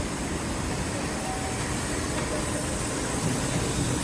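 A textile back sewing machine runs in a fabric-processing setting, giving a constant broadband mechanical hiss and whir, steady and fairly distant.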